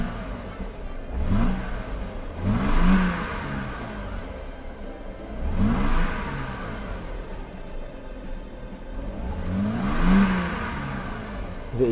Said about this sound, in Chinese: 张大哥试着加速